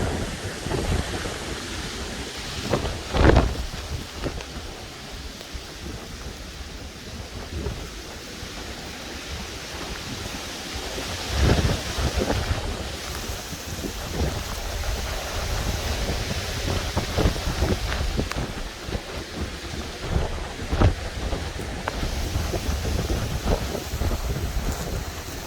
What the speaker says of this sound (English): there are gusts of up to 60 going through here.